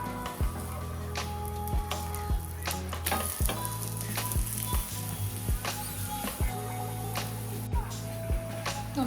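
Spicy Gujarati besan pudla, a chickpea-flour pancake, fries in oil on a pan with a continuous close sizzle, broken by repeated sharp scraping taps of a spatula and occasional clinks, with no voice.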